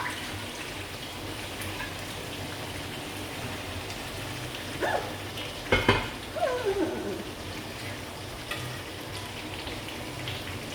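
Mutton simmering in a pan with a continuous rain-like frying sizzle as water is added, a few sharper spatters and scraping sounds rising briefly midway.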